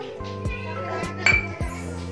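Spoonfuls of semolina added to a bowl of wheat flour, heard as several light metallic clinks of a spoon against the bowl, close by, over a steady hum with a low continuous tone underneath.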